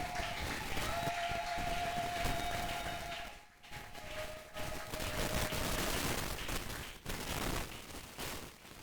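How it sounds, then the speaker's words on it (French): A church congregation applauds and cheers for the Lord, a dense, sustained wash of clapping and crowd voices that dips briefly midway before surging again. "Si nous pouvons faire des bruits pour le Seigneur en acclamant."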